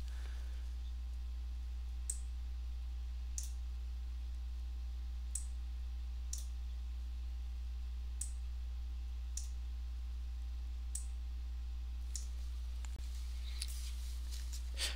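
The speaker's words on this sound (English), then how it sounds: "I will click and drag across some of the weft threads to recolor them green" Computer mouse clicks while dragging across weft threads in a weaving draft colour editor, sharp sparse clicks at irregular intervals over a low steady hum, close and quiet.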